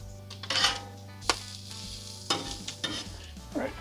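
Onions sizzling on a hot grill after a pinch of kosher salt, a steady close fry broken by a few sharp spits and light scraping stirs, no talking over it.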